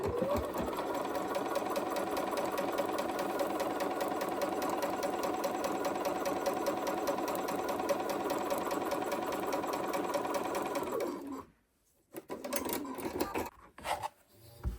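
A sewing machine stitching a quarter-inch seam in fabric, running loud and steady up close for about eleven seconds before stopping, followed by a few short handling noises.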